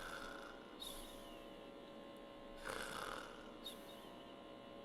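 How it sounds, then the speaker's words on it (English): A person snoring in repeated low, rasping breaths with brief louder bursts, close and quiet, during a breathing and capnography session about snoring and sleep apnea. "I'll probably start snoring again."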